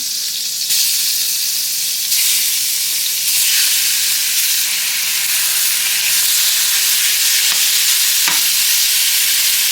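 Chicken pieces sizzle steadily in hot butter and oil, a constant bright hiss with occasional pops and stirring, no voices.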